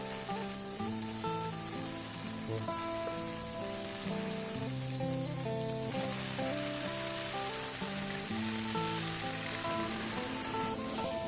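Steady, loud sizzling and hissing of food frying in a hot pan, continuous throughout with no talking.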